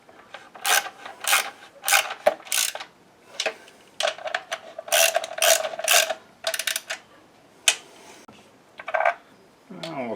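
Bursts of close ratchet clicking while bolts are snugged on a Harley-Davidson motorcycle during fuel valve work, irregular short runs of ticking separated by pauses.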